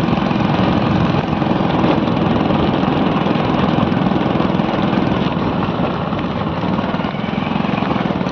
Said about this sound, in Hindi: अभी देखिए बाइक की चल रही है